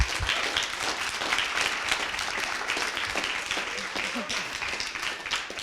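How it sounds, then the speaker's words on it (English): Lively applause fills a room at a coding bootcamp demo day in Montreal, dense clapping from an audience celebrating fifteen graduates, sustained and fairly close, with some voices mixed in beneath it. "I would like to give, again, a big round of applause to these 15 amazing people"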